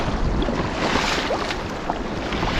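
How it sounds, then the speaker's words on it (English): Choppy waves slap and wash around a canoe on Lake Superior's Pukaskwa coast, with loud, steady rushing water and wind buffeting the microphone. "Okay, these waves are pretty big out here."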